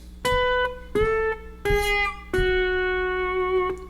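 Four sliding guitar notes in open E tuning ring out one after another, each plucked then gliding in pitch and sustaining, close and clear with no talking.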